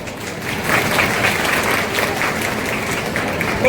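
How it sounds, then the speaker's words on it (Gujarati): An audience claps steadily throughout at a ceremony honouring bright students, a dense sustained round of applause filling the hall, close and fairly loud. "ખરેખર તમે તાળીઓના ગડગડાટના લાયક છો."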